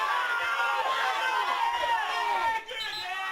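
During a Friday-night NPL men's football match between Moreton Bay United and Brisbane City, the stadium crowd chants and shouts steadily in the background while a commentator talks over it throughout.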